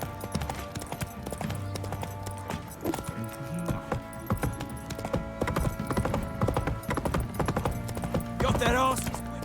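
Horse hooves clip-clopping steadily in The Witcher 3 video game, a continuous rhythmic trot with jingling tack, a brief whinny and speaking voices over the hoofbeats.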